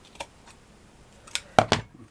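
Scissors snip flower trim during handmade flower crafting, a few faint early clicks followed by two sharp, close cuts near the end, with no voices.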